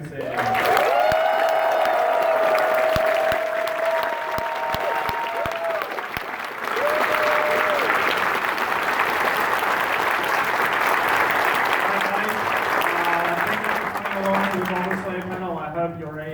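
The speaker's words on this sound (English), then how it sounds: "Can we get one final applause for Kagi Sensei?" A crowd at an anime convention panel claps and cheers loudly and continuously, with a voice speaking over the applause and a few whoops.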